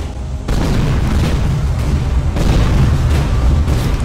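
Kabloomer enemies in Tower of Guns explode with loud, heavy booms, several blasts rolling one after another in a continuous, dense roar with no speech.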